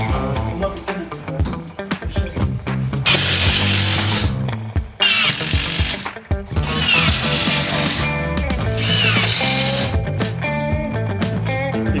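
A loud power tool, likely a saw, cuts wooden battens to fit inside a wooden sailboat under construction, running in long roaring bursts with brief pauses between cuts and rattling workshop noise throughout.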